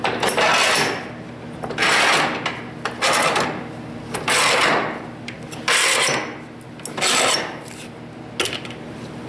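Clamps on a clamp table rack being backed off for panel glue-ups, giving repeated loud bursts of metallic ratcheting and turning, roughly five cycles with short pauses between, close and with no talk.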